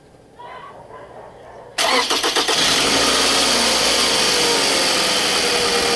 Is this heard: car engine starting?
yes